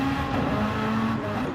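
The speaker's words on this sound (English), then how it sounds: "Totally different sound in the little Mazda." A Mazda rotary-engine race car in a classic DTM racing video game, its engine droning steadily and loudly with a buzzing tone throughout, with faint tire noise.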